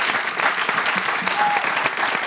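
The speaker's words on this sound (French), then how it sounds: "faire un tonnerre d'applaudissements pour la personne qui m'habille" Live audience at a hosted show bursts into loud, continuous applause for the host's dresser, dense clapping throughout the short stretch.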